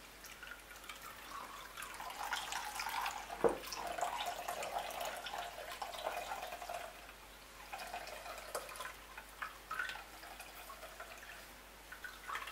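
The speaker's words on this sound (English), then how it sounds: "Gather everything up and squeeze out the water." Steady trickling and dripping of water squeezed from ground cassava in cheesecloth, falling into a bowl, with a brief splashy burst partway through, fairly close and continuous.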